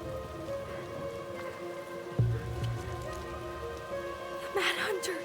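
Steady rain falls in the game Tell Me Why, a continuous patter under a background music bed, with a heavier thump and splash partway through.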